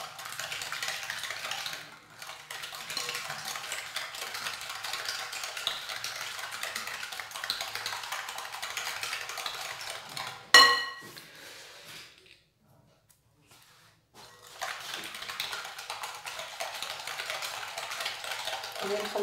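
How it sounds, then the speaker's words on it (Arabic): A hand whisk clatters steadily against a bowl of dessert batter, a fast continuous scraping rhythm close by, pausing briefly before resuming. "غادي نخلط غير الخلاط اليدوي، مكنحتاجش الكهربائي"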